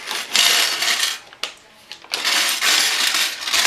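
Small metal charms jingle and clink as they are handled and poured, in bright rattling bursts separated by a brief lull, close up with no talk.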